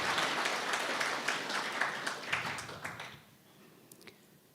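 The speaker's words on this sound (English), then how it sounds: "May we please have a round of applause for all our" Audience applause at an official monetary policy statement event, a dense wash of clapping lasting about three seconds before thinning out to a few scattered claps.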